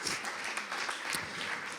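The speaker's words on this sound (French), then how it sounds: "on a eu Stan, qu'on applaudit très fort, franchement" Dense applause from a crowd, steady clapping filling the whole moment at moderate volume, no voices standing out.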